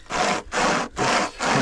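Wood being cut with a saw at a spring campsite, four long, loud, steady rasping strokes in an even back-and-forth rhythm, close by with no talking.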